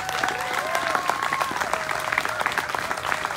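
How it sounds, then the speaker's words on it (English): An audience applauds panelists at the close of a community-building discussion, dense steady clapping from a crowd with some whoops or voices ringing out over it. "Please give them another round of applause."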